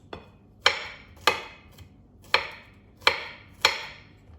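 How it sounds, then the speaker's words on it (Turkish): Six crisp knife chops through garlic cloves on a cutting board, spaced unevenly, close and clear with quiet pauses between strokes. "3 diş de sarımsağımızı doğruyoruz."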